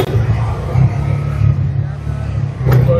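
An auto rickshaw engine rumbles low and steady nearby in Vijayawada, running under people talking.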